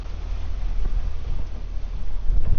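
Wind buffets a small oyster farm boat out on open water, a steady broadband roar with rumbling gusts close to the microphone and no talk.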